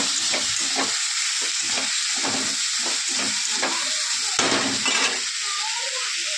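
Bitter gourd with onion, salt, turmeric and green chillies stir-frying in a pan, a loud steady sizzle with rhythmic stirring strokes throughout, close and unaccompanied by speech.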